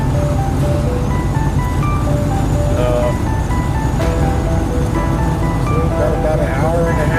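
Car interior on a long drive, a steady low engine and road rumble filling the whole stretch, loud and constant, with faint voice-like tones drifting over it.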